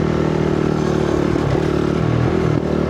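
A rally motorcycle pulls in fifth gear through deep desert sand on partial throttle, a steady loud droning engine note close to the rider with a brief dip near the end and no talk.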